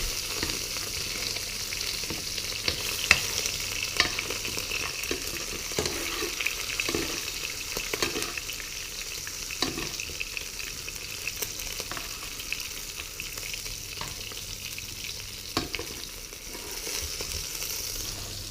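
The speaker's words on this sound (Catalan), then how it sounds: "I amb una cullera ajudarem a tirar-li la mantega als alls per sobre" Butter spooned over garlic and herbs sizzling steadily in a hot pan alongside filet mignon, a continuous frying hiss with occasional soft clinks of a spoon, close and fairly loud with no talking.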